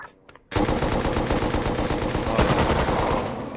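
Automatic gunfire in the video game Rust, aimed at a scientist: after a brief near-quiet moment, a loud, rapid, unbroken string of shots rattles on for about three seconds.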